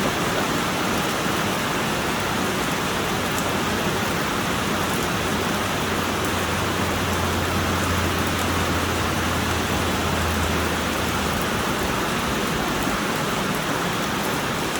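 Rain pours down hard and steadily outdoors, a dense, loud, unbroken hiss with a faint low hum running briefly through the middle.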